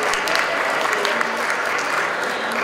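Steady, dense applause from an audience at an ideas festival, many hands clapping evenly and fairly loud with no pauses throughout.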